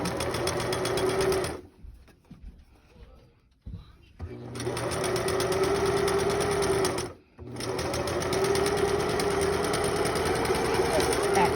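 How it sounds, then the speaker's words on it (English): A sewing machine stitches down the side of a homemade fabric face mask, running loud and close in long steady runs broken by a couple of brief stops, with a voice talking over it. "you're going to sew all the way down and make sure you put a back stitch in the bottom too"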